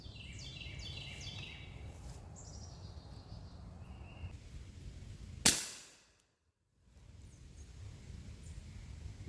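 A suppressed rifle fitted with a DPM recoil reduction system and a freshly oiled booster piston fires one sharp, loud shot midway, after which everything drops to near silence before faint ambient noise and a few bird chirps return.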